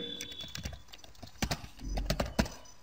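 A computer keyboard is tapped in short, quiet bursts while a web address is entered, giving a few soft, close, irregular key clicks.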